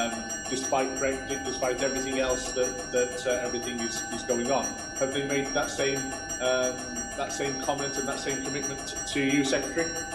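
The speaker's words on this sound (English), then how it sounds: "I don't know if you can hear me with the bell in the background." A bell rings steadily in the background of a Welsh parliamentary committee hearing, repeated strokes continuing beneath a man's speech throughout.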